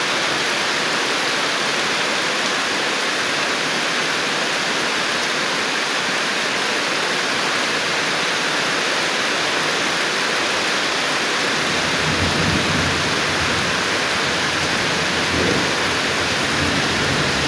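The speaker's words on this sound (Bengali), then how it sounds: "বৃষ্টির তীব্রতা যদি বুঝতে চান, আচ্ছা আমি দেখাচ্ছি।" Heavy rain pours steadily during a night thunderstorm in the small hours, with a constant loud roar and deep thunder rumbling underneath. The low rumble swells noticeably toward the end.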